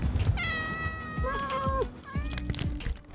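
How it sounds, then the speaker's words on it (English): A cat gives several drawn-out meows close to the microphone, one long wavering cry followed by a shorter one, over light rustling and handling noise. "A cat."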